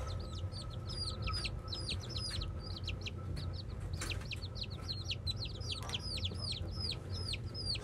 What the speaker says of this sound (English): Our next thing we're gonna do is pet some chickens.